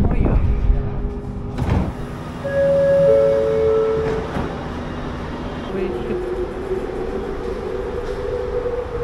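Rumbling rail noise of a metro train in motion, with a whining tone rising and holding as it runs, voices faintly present underneath.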